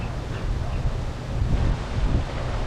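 Steady gusting wind buffets the microphone with low, rough rumbling, continuous and close throughout.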